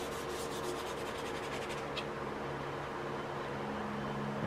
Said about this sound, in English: Just giving everything a nice little light sanding.